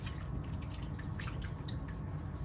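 Grease dripping off cooked lasagna meat into a pan in a home kitchen, a fast, steady patter of small drips running continuously and close by, with no talk.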